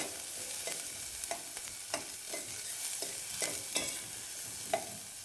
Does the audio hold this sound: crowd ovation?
no